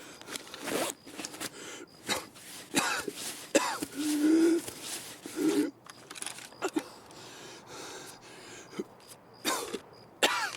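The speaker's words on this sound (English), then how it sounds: "I need this guy to stop coughing." Several short, sharp coughs and throat-clearing bursts from a person nearby, scattered irregularly among rustling and clicking noises, with no speech.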